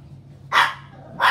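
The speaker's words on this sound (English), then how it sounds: "Stop barking." Two loud, close barks from a pet dog indoors, a sharp burst followed by a second one about half a second later, with a quiet low hum in between.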